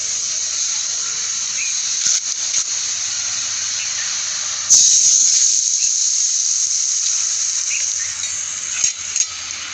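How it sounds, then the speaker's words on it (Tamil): Hot tempering poured into garlic rasam with pepper and cumin, giving a loud, continuous sizzling hiss that surges sharply midway and then settles, close up in a kitchen. "அப்படி தான் இப்போ தாளித்து ஊற்ற போகிறேன்"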